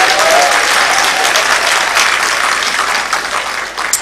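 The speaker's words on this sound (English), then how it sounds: "Let's acknowledge him with a round of applause." An audience at an alumni association launch and public lecture breaks into a loud, dense round of applause, sustained clapping that tapers slightly toward the end.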